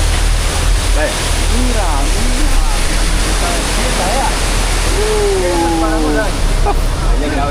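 A swollen mountain river torrent rushes loudly down a mountainside in Colombia, a dense constant roar of water with faint voices and whistle-like sounds scattered above it.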